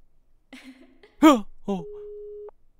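A telephone busy signal tone plays steadily after a call is cut off, following brief voice sounds and a sharp exclamation.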